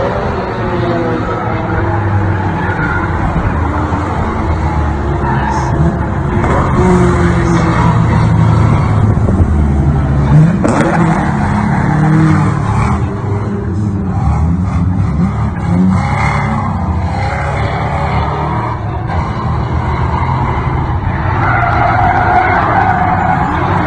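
Ford Mustang Foxbody notchback drift race car sliding on a track, a continuous loud roar of engine and tire noise with rising and falling revs and scrubbing squeal throughout, no voices.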